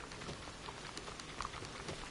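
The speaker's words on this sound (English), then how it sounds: "because now it's raining, which is annoying" Steady rain patters and hisses in the Red Dead Redemption 2 video game, a dense, even downpour heard alone at low level throughout.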